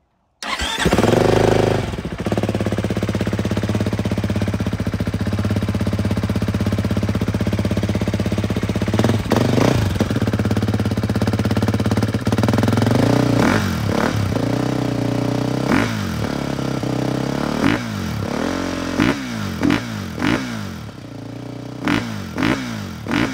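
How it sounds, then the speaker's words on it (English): A 2024 Beta four-stroke dirt bike with its stock exhaust starts up and idles roughly, then takes a series of sharp throttle blips that rise and fall, loud and close. "start this bike and just kind of rev it up so we can hear that stock exhaust"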